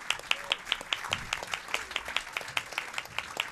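Brief, steady audience clapping at a talk session at the 32C3 hacker congress, with rhythmic claps of moderate loudness over a light crowd background.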